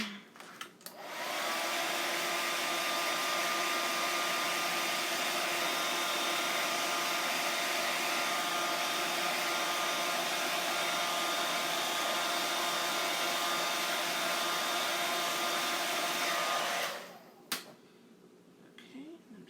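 A hair dryer blows steadily for about fifteen seconds while drying a silk screen print, a close, loud, even whoosh that cuts off abruptly, followed by a small click.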